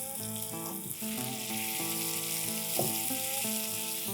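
Marinated chicken frying in a kadhai over a medium to high flame, a continuous bright sizzle of oil with soft stirring scrapes beneath it.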